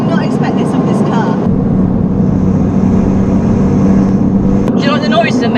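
Car engine running with a steady droning hum and some higher whirring, with people talking loudly over it throughout.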